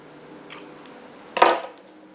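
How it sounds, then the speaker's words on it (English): Scissors snipping through yarn during crochet, a faint click followed by one louder, crisp close-up cut, then quiet. "Then I'm going to cut my previous colored yarn."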